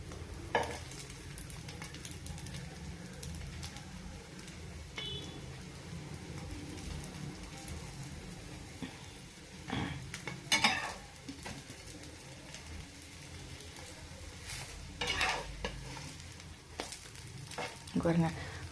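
Food sizzles on a hot tawa, a soft continuous frying crackle with occasional sharper scrapes and clinks of stirring, quiet and close, with a little talking.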